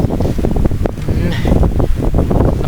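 Cold wind in Hungary rushing and buffeting the microphone in uneven gusts, with someone talking over it.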